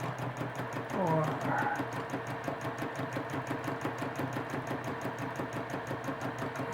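A sewing machine stitches free-motion quilted pebble shapes with a steady, fast, fairly quiet mechanical whir, while a person talks over it.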